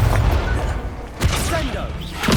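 Fire spells cast in the Hogwarts Legacy video game during a busy combat scene, with whooshing bursts and thumps layered over dense, loud game noise.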